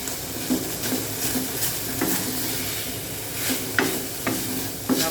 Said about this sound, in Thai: ก็คั่วพริกแกงกับหมูเนี่ยนะคะ